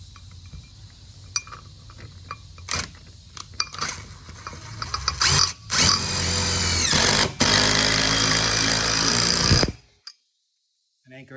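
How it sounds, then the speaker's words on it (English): A lag screw is driven down through a base shoe with a power tool, bursts of whirring and ratcheting building to a long, loud run before stopping abruptly, with clinks between bursts. "they would just fasten this right through the shoe"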